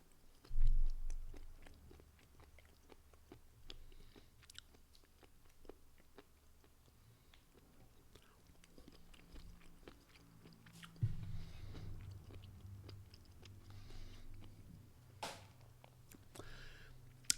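Someone eats a spicy Szechuan snack close to the mic, with irregular crunchy bites and soft chewing that go on throughout, plus a few louder crunches. No one talks.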